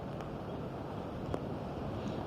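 Typhoon wind blows through Kennedy Town, Hong Kong, during rain, as a steady, low, roaring rush buffets the microphone throughout.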